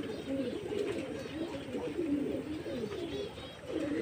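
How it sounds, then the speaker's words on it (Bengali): Pigeons perched on a net above a home rooftop coo in soft, repeated low murmurs, close and steady throughout, with faint chirps of small birds mixed in. "কিছু পায়রা উপরে দেখো আছে"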